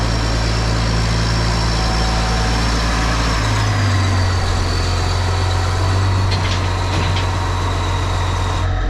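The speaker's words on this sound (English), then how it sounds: "this tractor's bucking" A heavy diesel tractor engine runs steadily close by, its low drone shifting pitch partway through as the revs change.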